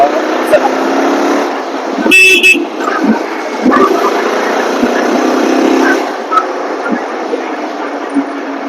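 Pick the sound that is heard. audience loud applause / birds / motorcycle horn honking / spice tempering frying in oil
motorcycle horn honking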